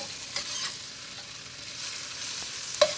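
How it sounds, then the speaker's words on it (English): Firm tofu stir frying in a pan for pad thai, a soft steady sizzle running throughout with a few brief clinks of a utensil stirring against the pan, the last one sharper and louder near the end. "we're just going to stir fry this until it's nice and golden"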